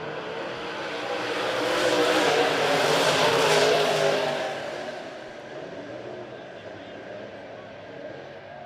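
A field of dirt race cars at Monett Motor Speedway accelerates off the green flag start, engines swelling into a loud roar as the pack passes, then fading to a steadier distant drone, with an announcer talking.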